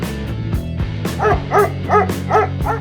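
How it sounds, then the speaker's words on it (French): A dog gives a run of short, high yips and barks, repeated in quick rhythm close to the microphone, over a humming musical background. "Pourquoi les chiens aboient-ils en voyant des câlins?"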